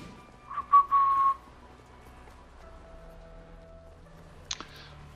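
A person whistles a few short, clear tones near the microphone, then a longer soft whistled note follows, over faint background game sound.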